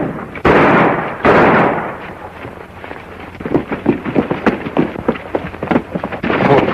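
Gunshots in a 1940 western film: two loud, booming blasts crack out close together near the start, followed by quieter irregular scuffling and rumbling.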